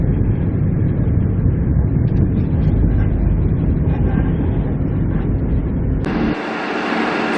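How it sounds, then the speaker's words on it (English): Passenger train arriving at Goulburn station in New South Wales on a Sydney to Canberra run, heard as a loud, steady rumble and hum throughout before an abrupt shift in tone near the end. "Train has arrived in Goulburn."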